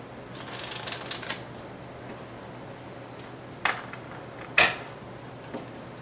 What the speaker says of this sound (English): Okay, so do a quick shuffle.